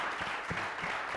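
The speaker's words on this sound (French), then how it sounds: "Je vais demander bien plus d'applaudissements pour eux." A TV studio audience applauds the musicians after their performance, a brief stretch of dense, even clapping under a faint room hum, fairly quiet and distant.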